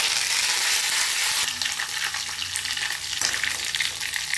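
Mustard seeds and curry leaves crackle and sizzle in hot oil in a pan for a jackfruit dish, a dense steady frying hiss with a sharper burst of spluttering midway, close and alone.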